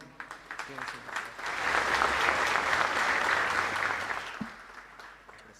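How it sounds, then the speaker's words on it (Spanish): Congregation at an anniversary Mass in a parish church applauding the priests and deacons, a steady wash of many hands that builds and holds before tapering off, with a voice audible early on. "a ellos también nuestro reconocimiento con un fuerte aplauso"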